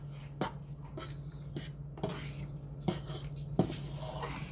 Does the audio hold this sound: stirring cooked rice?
yes